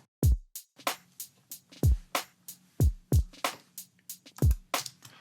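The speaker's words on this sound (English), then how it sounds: "what you hear here is just some ghost snares just to support" A drum break with deep kick thumps and sharp hits, interspersed with quieter, lighter ghost snare taps filling the groove at a steady tempo.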